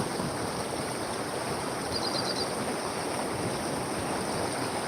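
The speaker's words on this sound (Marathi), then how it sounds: "पहा पाण्याचा प्रवाह वाढत वाढत चाललेला आहे" A fast-flowing, rain-swollen stream rushes steadily after heavy rain, a dense, even roar of water at moderate distance with no pauses.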